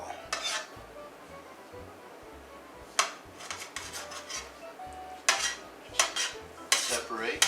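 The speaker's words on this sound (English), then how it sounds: "Just separate the shrimp from the tails and then put them right over here." Metal utensils clink and scrape against a dish while cooked shrimp are pulled from their tails, sharp clattering bursts coming in irregular clusters, close and fairly loud, with no talk.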